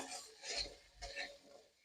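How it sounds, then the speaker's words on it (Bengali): Small crabs fried in a pan with turmeric and salt, a utensil scraping and clinking against the metal in two short bursts over a soft background hiss. "5 মিনিট এভাবে ভালো করে নাড়াচাড়া করে ভেজে নিলাম।"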